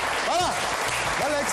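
Applause from a live audience during a comedy-style news show, a short burst of steady clapping with overlapping raised voices cutting through it.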